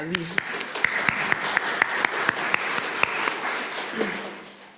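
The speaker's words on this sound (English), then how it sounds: "I'm very grateful for ORUC's excellent staff team. Let's give them a round of applause." A church congregation claps for its staff team during a Sunday service. The clapping is moderate and scattered, with a few sharp individual claps standing out, a voice briefly heard at the start and end, and the sound fading toward the close.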